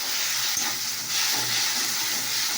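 Water poured into a hot pan of spiced potatoes and pointed gourd with cumin and salt, giving a loud, steady steamy hiss and sizzle that continues without a break.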